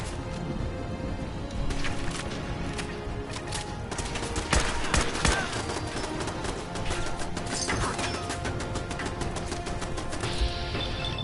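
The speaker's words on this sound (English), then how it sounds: "I knew I was hearing a turret somewhere." Turret gunfire in Fallout 4, heard in the Vault 95 area: dense, continuous bursts of shots and sharp impacts, loud and steady throughout, with heavier cracks clustering midway.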